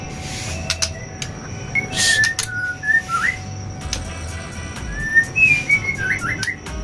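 Short rising chirps and whistles from a white-rumped shama (murai batu) fledgling, recorded outdoors in a bird-breeding setting, repeated in scattered bursts over a steady low background hum.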